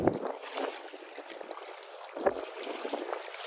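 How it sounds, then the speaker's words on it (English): Steady wind rushes across the microphone outdoors on North Andros Island, Bahamas, a constant hiss of noise with a couple of soft bumps, no voices. "I know the wind is blowing. It's a lot of noise."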